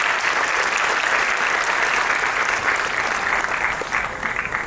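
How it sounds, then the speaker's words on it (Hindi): An audience at a Bharatanatyam and Kathak annual day dance show claps loudly and continuously for young girl dancers, a dense, even roar of applause that tapers slightly at the end. "इन छोटी छोटी बच्चियों के लिए एक बार जोरदार तालियां होनी चाहिए।"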